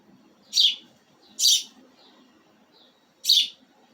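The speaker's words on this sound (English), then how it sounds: "Stupid ass bird." A pet bird gives three sharp, bright chirps spaced apart, close and clear over a faint background.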